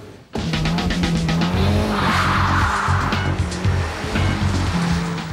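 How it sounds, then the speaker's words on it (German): An Audi TT is driven at full throttle toward 280 km/h, its engine roaring loud and steady with a rising tonal whine and squealing tires, no voices over it. "Deshalb Vollgas für den Audi TT bis 280 km in der Stunde."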